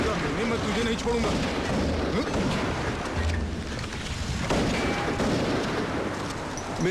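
Gunfire during a shootout in a Hindi-dubbed Hollywood action movie, heard as a dense, continuous roar of shots and booming blasts mixed with loud rumbling noise for the whole stretch.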